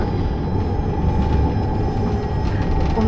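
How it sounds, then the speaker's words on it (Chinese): Light rail train in Jerusalem running past at close range, a loud steady rumble of wheels and rail with a sustained tonal hum, continuous for the whole stretch with no voices. "可能轻轨的声音太大声了"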